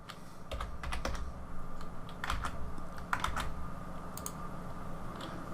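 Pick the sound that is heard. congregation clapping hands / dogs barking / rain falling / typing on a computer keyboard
typing on a computer keyboard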